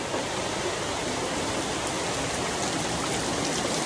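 Steady rain falling, a dense continuous hiss of drops with no pauses and no talking.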